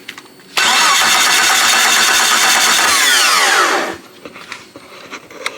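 A wrecked Jeep Cherokee with a bad engine cranks loudly for about three seconds, the starter whine dropping in pitch before cutting out, followed by quiet shuffling and small knocks nearby.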